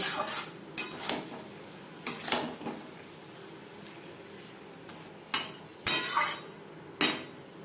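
Potatoes coated with salt and turmeric are tipped into a pan and stirred for a vegetarian banana-flower dish, with several sharp clanks and scrapes of a utensil on the pan between quieter gaps.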